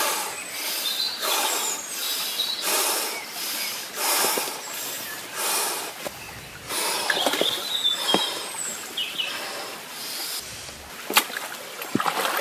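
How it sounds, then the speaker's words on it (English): Rapid fire breathing before a cold water immersion: a man takes quick, forceful rhythmic breaths in repeated bursts with short pauses between, close and breathy, alone without speech. "I do what's called fire breathing, which is rapid breathing for a short period of time"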